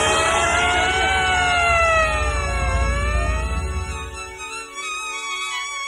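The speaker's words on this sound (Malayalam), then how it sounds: "എവിടെ നിന്നോ ഒരു ആംബുലൻസ് വാൻ ചീറിപ്പാഞ്ഞു വന്നു" An ambulance van races past with its wailing siren rising and falling, loud and close over a heavy engine rumble, then the siren carries on more thinly as the vehicle draws away.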